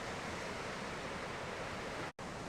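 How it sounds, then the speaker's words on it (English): Waterfall spilling from the rock walls of a gorge, a steady broadband rushing roar filling the space, continuous and even with a momentary drop near the end. "we have got a waterfall flowing in the distance, just coming out of the walls of the gorge."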